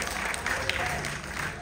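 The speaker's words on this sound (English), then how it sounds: "stop that clapping" A gospel concert congregation claps together, a dense, steady wash of applause filling the church space and holding at an even level from start to finish.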